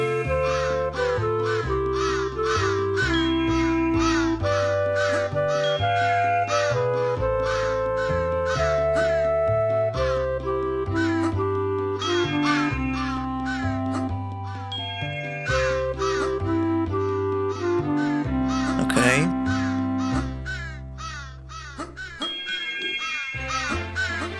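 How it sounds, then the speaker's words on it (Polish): A crow caws in the Christmas video game Mikołaj w tarapatach, its calls set against a steady, busy game music track that plays throughout. "I mamy pierwszego tutaj, pierwszą tutaj wronę."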